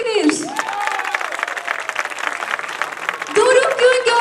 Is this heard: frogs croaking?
no